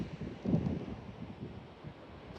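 Wind gusting at a rural coastline with stone fences, a steady low rumble buffeting the microphone, swelling briefly near the start and then settling into a continuous blustery roar with no talk.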